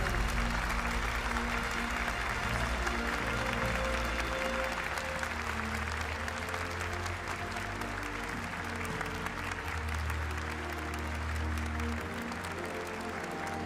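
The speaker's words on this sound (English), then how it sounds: "A huge round of applause here for the third place team of Team Subaru" A crowd applauds Team Subaru at the GT World Series World Finals in Fukuoka, steady sustained clapping over a low droning hum, with no voices above it.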